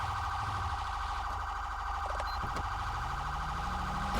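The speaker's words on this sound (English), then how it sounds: "With the siren on." A police car siren in the Grand Theft Auto V LSPDFR mod wails steadily and loudly for the whole stretch, with a constant electronic tone and no voices over it.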